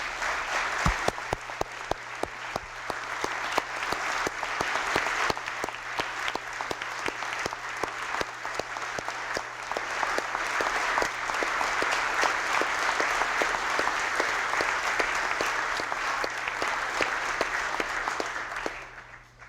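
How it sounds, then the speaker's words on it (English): Sustained audience applause in a legislative chamber during a Delaware governor's State of the State address, dense even clapping that builds, holds steady for nearly twenty seconds, then fades out at the end. "a big round of applause"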